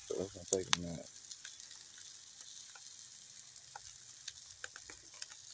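New York strip steaks sizzle on an outdoor grill on Labor Day. A soft, steady frying hiss with scattered crackles follows a few brief clinks at the start.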